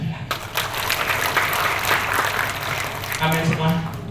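A church congregation applauds in a dense wash of clapping, with voices and a man's speech mixed in over the noise.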